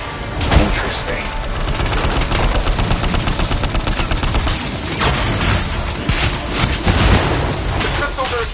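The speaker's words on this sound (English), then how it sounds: "The crystals are exploding." Crystals explode amid heavy gunfire in the video game Anthem, a loud, dense barrage of rapid shots and sharp blasts with booming peaks, with voices mixed in underneath.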